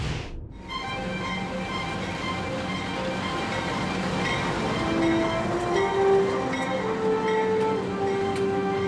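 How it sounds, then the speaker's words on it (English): The Ghan passenger train rolls through outback Australia with a steady close rumble and rattling carriages, a long sustained horn-like tone sounding over the noise in the later part, no voices. "We are linked by one of the most famous train rides in the world, and that train ride is the Ghan."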